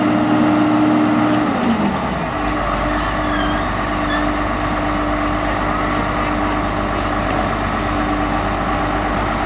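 A big-motor pickup truck engine at a county fair runs loud and close, its pitch dropping early as it settles into a steady, heavy drone that continues without interruption.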